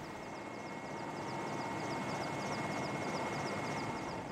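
Military helicopter engine in flight over the Chernobyl nuclear plant in 1986, a faint, steady engine drone with a continuous whine and rapid rotor chop running throughout, no voices.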